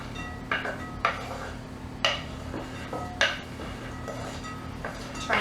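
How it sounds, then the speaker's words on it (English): Nuts are added and stirred in a bowl, giving a series of crisp clinks and scrapes against the dish about once a second, close and fairly quiet with no talk. "You're going to go ahead and add your nuts in."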